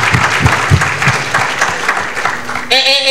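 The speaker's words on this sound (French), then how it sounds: "si vous voulez applaudir, applaudissez" Audience at a coaching workshop breaks into loud, close applause, dense clapping for a few seconds before a voice cuts in at the end.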